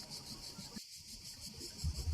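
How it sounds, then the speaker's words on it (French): On an August evening in a summer breeze, cicadas hold a steady, high-pitched buzzing drone that runs on without a break. Muffled low rumbles and a short dip sit beneath it. "Vent d'août, le chant des cigales,"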